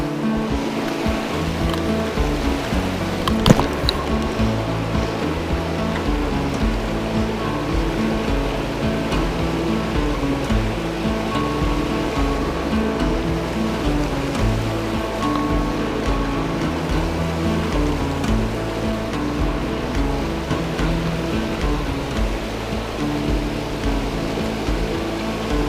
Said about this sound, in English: the water here is moving fast